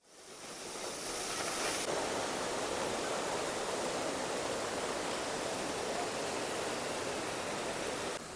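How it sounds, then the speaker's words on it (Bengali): The Seven Sisters waterfall in North Sikkim, water falling down a series of seven tiers: a continuous broad roar of rushing water, steady and fairly loud throughout, with no other sounds standing out. "আর এইখানে দেখা যাচ্ছে 7 সিস্টার্স ওয়াটারফল"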